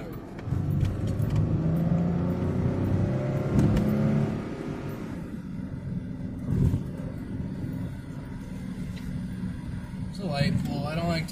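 A 2.8 liter V6 car pulls away at light, partial throttle, its engine drone steady and fairly loud for about five seconds before easing to a quieter cruising hum, with a brief voice near the end.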